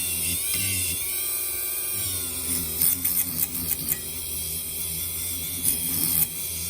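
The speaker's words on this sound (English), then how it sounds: "taking a little Dremel tool, just going in and out of the socket" A small Dremel rotary tool whirs while cleaning out a bulb socket on a 1981 DeLorean DMC-12, a high steady whine with scratchy bursts as the bit works in and out, close-up.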